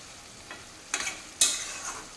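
Fish-head and cabbage ghonto being stirred in a pan as it dries out, two brief scraping stirs with a soft sizzle between them, close and otherwise quiet.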